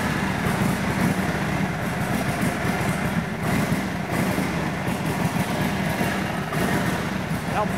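A 1942 Harley-Davidson Flathead 45 motorcycle engine with forged pistons runs steadily nearby, a loud continuous rumbling idle throughout with no pauses.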